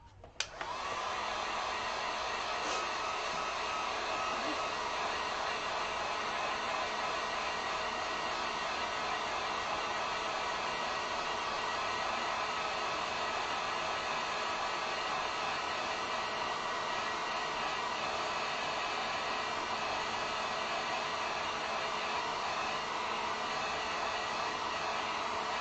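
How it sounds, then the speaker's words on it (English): A heat gun blows hot air during an acrylic painting craft project, a constant, even rushing hiss that runs unbroken for about 25 seconds after a brief click at the start, fairly quiet and with no talking. "Let me grab a heat gun real quick."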